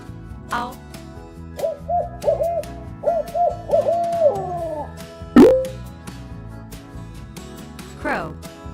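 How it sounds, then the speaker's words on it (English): An owl hoots in a short run of repeated tonal calls over light background music, followed by a louder single cry and a later fainter call, in a children's animal-sound song. "Owl."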